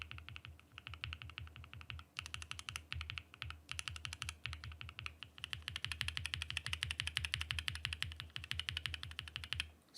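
Typing on a Mode SixtyFive mechanical keyboard fitted with POM switches and a POM plate: rapid, close bursts of clacky keystrokes with brief pauses, then a longer, steadier run of fast typing.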